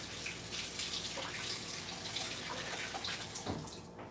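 Frozen sausages are rinsed under a running kitchen tap, giving a steady, fairly quiet rush and splatter of water over the links that continues for several seconds, close by, with no speech.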